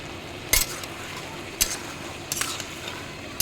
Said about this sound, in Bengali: এবার আমি চিংড়ি মাছগুলো দিচ্ছি, চিংড়ি মাছগুলো দিলাম